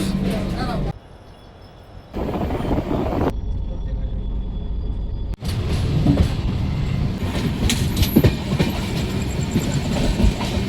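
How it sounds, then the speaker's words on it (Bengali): The 13125 Sairang Express from Kolkata rolls toward Mizoram's hills, a loud continuous rumble with clickety-clack of wheels on rails heard from inside the carriage, briefly muffling before resuming; voices talk underneath. "এবার তো পাহাড়ের ওপরে ট্রেনটা উঠবে তো।"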